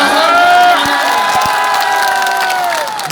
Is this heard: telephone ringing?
no